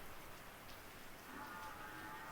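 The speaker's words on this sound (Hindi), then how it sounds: "भाई बारिश आ गई है, यदि थोड़ी बहुत आवाज़ भी आ रही हो तो कोई दिक्कत नहीं है" Rain falls steadily outdoors as a soft, even hiss of drops on surfaces, faint and distant with no pauses.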